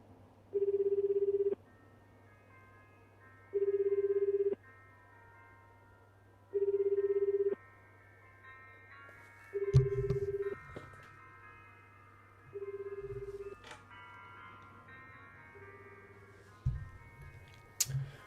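A phone rings in the video game You and Me and Her, several clear repeated ring bursts spaced evenly, then softer rings mixed with clicks and brief background sounds, no speech.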